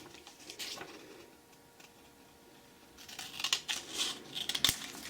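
Scissors cutting linen fabric along a marked line for a summer tunic, giving soft, faint snipping and rustling that grows busier toward the end, with no talk.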